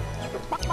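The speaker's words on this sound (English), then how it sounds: "These chickens are somehow avoiding me, and they're twice my size." Giant oversized chickens in the video game Gex 3 cluck in a short, brief burst of game audio with a few quick clucks close up.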